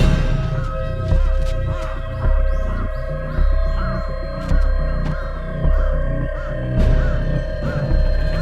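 A crow caws repeatedly in a regular, rhythmic series of harsh calls while being attacked by a young goshawk, set over a low throbbing hum, fairly close and without talking.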